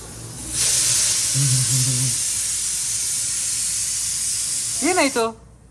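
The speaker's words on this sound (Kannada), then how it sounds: "ಮ್ಯಾಜಿಕ್ ವಿಷಲ್ ಬರುತ್ತೆ ಇವಾಗ" Pressure cooker whistle bursting into a loud sustained steam hiss lasting several seconds before cutting off, with people talking over it at the start and end.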